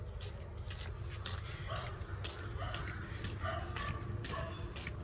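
Dogs whimper and give short yips and barks up close, setting off on an outing to a mangrove forest, over a steady low rumble that runs throughout.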